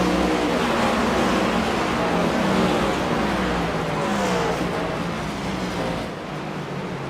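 Race cars bunch up through a hairpin, their engines roaring loudly and continuously close by with revs rising and falling, cars passing in a dense pack and a brief tire squeal, with almost no talk.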